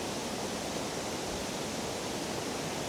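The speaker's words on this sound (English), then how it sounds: "the powerful sound of water hitting rocks here on this waterfall" Water of a waterfall at the Hermitage in Scotland crashing onto rocks, a steady, unbroken roar of white-noise rushing that stays even and fairly close throughout, with no voices.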